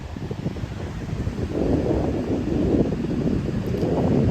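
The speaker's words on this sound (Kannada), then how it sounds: "ನಿಮಗೇನೆ ಗಾಳಿ ಸೌಂಡ್ ಕೇಳಿಸ್ತಾ ಇದೆ ಅನಿಸುತ್ತೆ" Strong wind gusts at a check dam, a loud, continuous roar and buffeting across the microphone that swells heavier partway through, with no voices.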